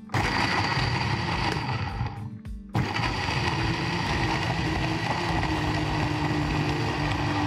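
A kitchen blender grinding spices and roughly chopped ingredients with a little water for beef rendang, a loud continuous whirring grind that cuts out briefly, then starts again and runs steadily.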